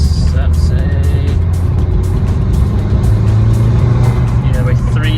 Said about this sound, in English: When you put the foot down, the turbo comes in at, let's say,